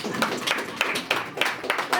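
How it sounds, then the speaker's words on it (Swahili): An audience claps in a steady, even rhythm of distinct hand claps, close and fairly loud, with speech mixed in throughout. "Tumpige makofi."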